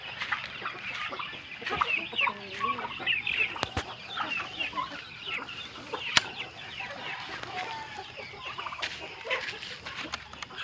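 Rhode Island laying hens at a small farm pecking feed in their pen, clucking and chattering continuously with overlapping calls and occasional sharper squawks, fairly close.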